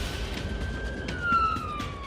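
An ambulance siren wails while the vehicle drives on blue lights, a sustained tone sliding in pitch over road noise, fairly close and clear.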